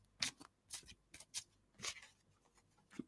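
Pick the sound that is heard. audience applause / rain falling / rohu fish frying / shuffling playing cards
shuffling playing cards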